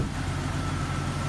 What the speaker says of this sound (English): The engine's nice and smooth and quiet.